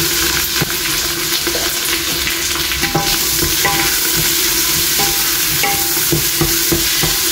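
Tomatoes and slit green chilies being stirred into ginger and garlic frying in a pan, a loud steady sizzle with repeated scraping stir strokes throughout, no voices.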